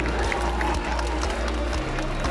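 Live audience at a travel festival stage contest in Singapore breaks into sustained clapping and crowd cheering for a contestant, a dense, steady wash of applause with scattered shouts throughout.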